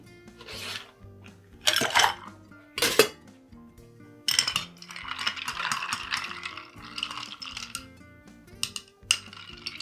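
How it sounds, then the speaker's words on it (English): A gimlet made with Rose's lime juice is stirred in a mixing glass, with ice clinking and rattling against glass and a bar spoon in bright, uneven bursts, close and clear with no talking. "we're going to stir it and serve it up in a fancy, fancy cocktail glass"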